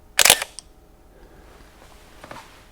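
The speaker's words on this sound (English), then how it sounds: "There's just something about that shutter." A DSLR camera shutter, practically brand new, fires one loud crisp clack close by, followed by faint quieter clicks and handling noise against near silence.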